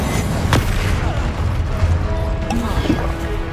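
Fire spell from the video game Hogwarts Legacy: a sharp booming burst at the start, followed by a sustained rumbling roar and scattered crackling impacts, loud and continuous throughout.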